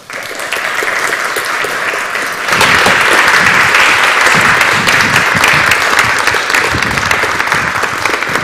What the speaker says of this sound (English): can everyone please give a warm round of applause for our speakers tonight?